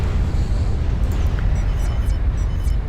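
In the Supreme Commander video game, an ACU commander unit explodes in a 6v6 match: a dense, sustained low rumbling roar with steady loudness throughout and a few faint high whistles overhead.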